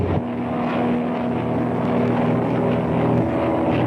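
A propeller airplane engine drones steadily during takeoff with a low, even hum, loud and continuous, with no talking.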